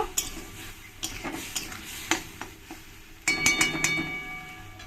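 Masala for an egg and soybean dish frying with a little water in a pan, a constant sizzle under repeated scraping stir strokes and spoon clinks against the metal, growing louder near the end.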